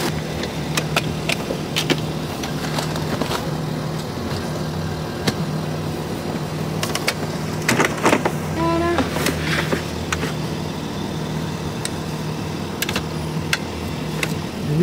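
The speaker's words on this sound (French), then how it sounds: "Il sort la voiture" A family car is driven out at a new house, a low engine rumble with scattered clicks and thuds, and a brief whirring burst midway.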